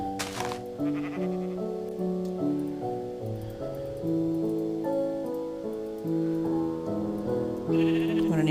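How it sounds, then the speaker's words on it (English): A sheep in the Minecraft video game gives a quick bleat at the start, followed by game background music with plucked and sustained notes. Another faint, brief bleat comes near the end. "Yes, that is a sheep."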